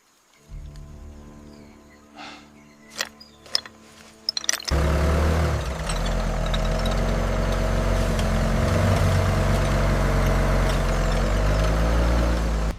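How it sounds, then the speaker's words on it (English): A Hummer H1 engine, long abandoned and rusty, rumbles steadily after a few clanks, its sound swelling to a loud sustained roar as the throttle is raised and held. "give it a little more throttle"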